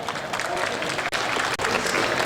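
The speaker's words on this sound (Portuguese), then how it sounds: "palmas para ele" Audience applause for a speaker at a science and pseudoscience talk, a steady dense patter of many hands clapping throughout, close and even, with two brief dips in the middle.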